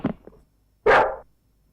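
A single dog's bark, loud and close, follows a short stretch of indoor talk and a brief pause, then fades into quiet.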